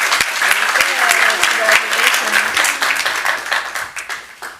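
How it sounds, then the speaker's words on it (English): Audience applause for award recipients at a city council meeting, brisk clapping from a room of people with a voice speaking over it, tapering off toward the end. "we can clap for each person"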